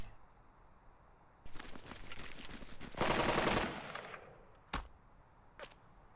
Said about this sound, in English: We still have a firefight going on here.